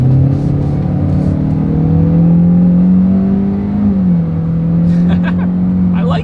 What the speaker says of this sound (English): Let's go ahead and do a quick little acceleration, see how quickly we can get this new 2020 Elantra here up to speed.